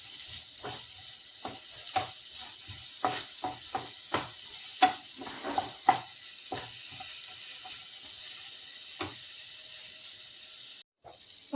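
Bitter gourd, tomato and mango sautéing in a pan, with a quiet steady sizzle broken by a series of sharp spoon scrapes and stirring clicks, then fading near the end.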